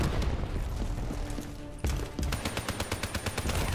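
Rapid gunfire from Call of Duty: Black Ops III multiplayer, loud dense bursts followed by a sharp break, then quick evenly spaced automatic shots ringing out.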